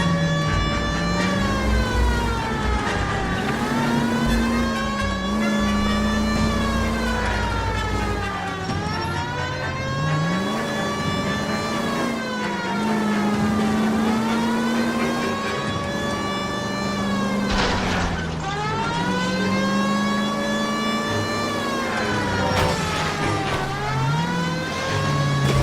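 A car drives through the streets in L.A. Noire with a steady engine drone, while a wailing siren rises and falls continuously over it for the whole stretch, loud and sustained.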